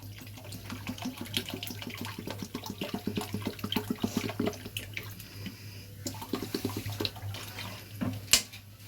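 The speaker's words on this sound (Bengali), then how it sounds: "এবার এটার মধ্যে আমি খানিকটা জল দিয়ে দেব।" Water pours from a tap or vessel into a pot of fried spices for khichuri in a steady splashing trickle. It is close and moderately loud, with a low hum beneath and a brief clink near the end.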